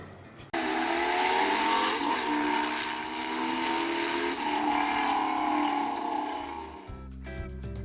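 A Suzuki DRZ4S motorcycle engine kicks in suddenly and drones loudly while riding off-road across a farm field, holding a steady pitch with slight rises and falls, then cutting out near the end; no speech.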